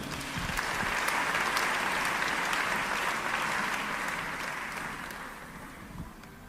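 Congregation clapping in a church service, a steady wash of applause from many hands that swells early, holds, then gradually tapers toward the end.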